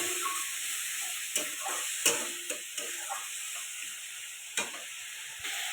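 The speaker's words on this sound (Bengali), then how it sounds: "দিয়ে দেবো জিরের গুঁড়ো, দিয়ে দেবো একটু জল, দিয়ে ভালো করে এটা কষাতে থাকবে" Cumin powder and a splash of water sizzle with spices in a pan for a rohu fish curry, a steady frying hiss broken by several sharp stirring scrapes and clinks, with no talking.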